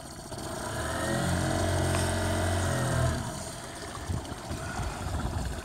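A boat engine cranks and starts, rumbling steadily for a few seconds before dropping to a lower idle as it is put in gear, close and fairly loud, with no talking.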